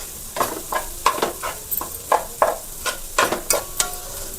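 Garlic egg fried rice is stirred in a hot pan, with a rhythmic series of about a dozen sharp scrapes and clacks of a spatula against the metal over a soft sizzle, close up and with no voices.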